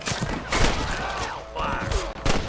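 Rapid bursts of gunfire crack through a Red Dead Redemption shootout against cattle rustlers, several loud shots in quick succession with a brief voice in the mix.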